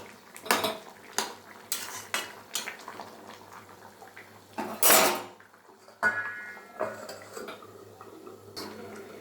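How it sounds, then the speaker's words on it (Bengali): Metal pot lid lifted and set back over vegetables (potol and potato curry) cooking on a home stove, giving a series of sharp clanks and scrapes of metal on metal, close and fairly loud, with no talking. "সবজিটা ঢাকনাটা একটু তুলে দেখি যে কতটা হলো"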